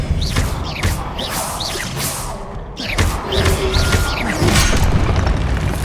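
In Hogwarts Legacy on PS5, fire and blasting spells go off in quick succession: loud booms, heavy thuds and crashing impacts with whooshing bursts, close and forceful throughout.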